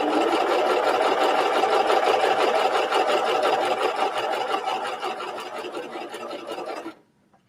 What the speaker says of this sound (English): if you're doing a beautiful double cover stitch, make sure you're stitching on the right side of the fabric